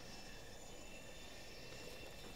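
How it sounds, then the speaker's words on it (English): Helicopter in the Battlefield video game, a steady droning engine and rotor roar that holds at an even level throughout with no voices over it. "I'm in an empty helicopter."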